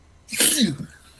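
One sharp, close sneeze bursts out during a sports talk show, short and forceful, with quiet room tone before and after.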